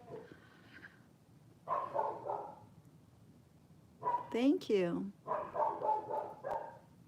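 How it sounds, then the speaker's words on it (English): A pet dog barks in bursts indoors, a few loud yaps and a whining rising bark mixed in, interleaved with a person speaking at moderate level. "can you guys hear my dog or is it just me? She's pretty loud here to me"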